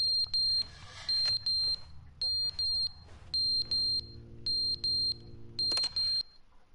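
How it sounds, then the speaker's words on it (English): An alarm in the video game The Stanley Parable beeps insistently in regular high-pitched pulses, some short and some held, while a low hum and a few other tones sound underneath. "it's beeping"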